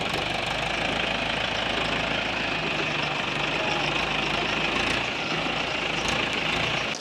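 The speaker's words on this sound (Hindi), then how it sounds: "मैं ट्रैक्टर ट्रॉली को गन्ना भर के ले आया हूँ" A tractor engine idles with a steady, loud, throbbing knock while hitched to a trolley loaded with sugarcane at a jaggery-making crusher site, running continuously throughout with no talk.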